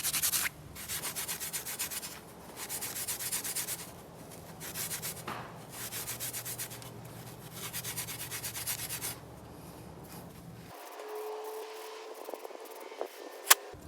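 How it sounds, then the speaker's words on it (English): Scuff pad rubbing and scrubbing a VW Type 4 2.0 engine part from a Porsche 914, steady close abrasive strokes in short bursts for about ten seconds, then quieter handling noises and a sharp click at the end. "Just clean up a little bit with the scuff pad."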